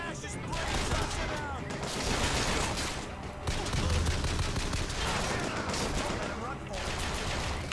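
Heavy, continuous gunfire in the video game Bioshock Infinite, with overlapping rapid shots and bursts that stay loud throughout and dip only briefly.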